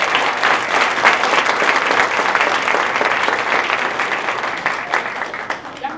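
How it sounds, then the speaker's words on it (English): A loud, dense burst of audience clapping after a catering business presentation at a launch challenge event, sustained throughout and tapering slightly toward the end, with faint voices mixed in. "Y'all can keep clapping if you want to."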